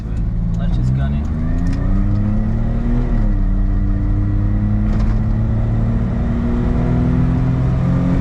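Suzuki Jimny accelerating hard on a road, heard from inside: a loud, close engine roar climbing in pitch, briefly dropping at a gear change, then climbing steadily again.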